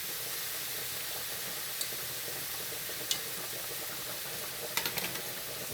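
Meat sizzles steadily in a pan while being browned for a potato casserole, a constant close hiss with a few faint pops and spatters breaking through near the end.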